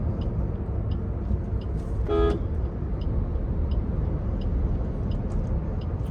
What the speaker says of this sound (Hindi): अब फिर से अब कार को करूंगा मैं 4th गियर में